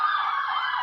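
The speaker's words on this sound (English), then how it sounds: "sorry about the sirens." An emergency vehicle siren wails steadily throughout, fairly close and loud, with a faint low rumble of road traffic underneath.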